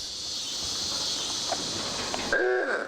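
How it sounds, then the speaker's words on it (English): Crickets chirp in a small rural town in Fountain County, Indiana, a steady high-pitched drone at moderate volume that drops out near the end as a brief tonal, whistle-like sound takes over. "Crickets."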